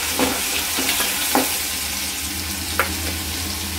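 Garlic paste and asafoetida sizzle steadily in hot oil for a tomato chutney, with a few scraping stirs of a spoon in the pan, close and continuous with no talking.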